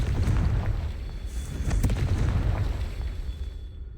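A Confringo blasting spell explodes in a video game as a low, rumbling boom that rolls on for a few seconds and slowly dies away, with no voices over it.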